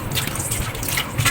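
Cabbage being washed in a basin of salted water gives soft close drips, trickles and sloshing splashes, steady and fairly quiet, with no talking.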